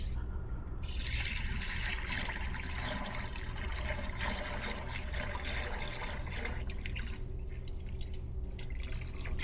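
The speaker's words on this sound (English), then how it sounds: "A lot of the water will drain out, and then we'll leave it in the sun to dry out further" Water drains from a red Georgia clay slurry through cotton cloth, a close, steady trickle and patter of drips that goes on without break at low level.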